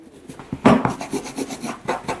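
A toothbrush scrubs loose gunk from a dog clipper blade during a grooming session, giving close, uneven rasping strokes with a few sharper scraping bursts and no talking.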